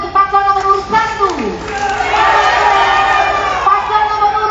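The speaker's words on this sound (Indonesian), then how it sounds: "Tepuk tangan untuk paslon nomor urut 1," An audience at a regent and deputy regent candidates' debate in Southwest Sumba breaks into a swell of cheering and clapping, rising to a sustained crowd roar while an announcer speaks over it.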